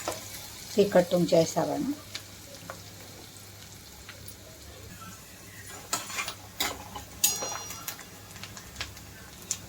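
Onion and green chilies drop into hot oil with garlic already fried, giving a close sizzle with stirring clatter and scattered ticks; someone talks briefly over it.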